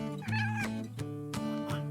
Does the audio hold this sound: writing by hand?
no